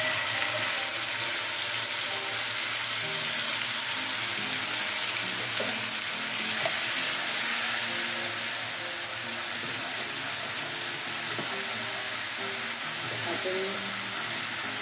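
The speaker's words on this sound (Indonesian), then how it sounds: "kita panaskan sedikit minyak dan kita tumis bumbu halusnya" Ground spice paste stir-frying in hot oil for a dish of mustard greens, egg and meatballs, with a steady, loud broadband sizzle throughout and occasional soft stirring scrapes.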